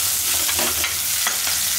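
Chopped shallots sizzling in hot oil for a tempering, a continuous bright frying hiss with faint stirring scrapes, close and steady throughout.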